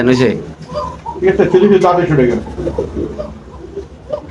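Pigeons coo at a pigeon market with some 250 birds on sale, soft throaty calls repeating close by and mixed with people talking.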